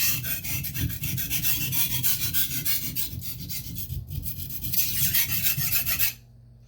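A blade is sharpened on Norton India combination and hard Arkansas oilstones: close, rhythmic rasping strokes repeat steadily for several seconds, then stop abruptly.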